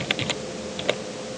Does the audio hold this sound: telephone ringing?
no